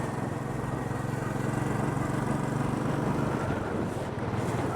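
Steady rush of wind and airflow while riding a Royal Enfield 500 Bullet motorcycle in Tampa, Florida, with the low thump of the single-cylinder engine running continuously underneath at a constant level.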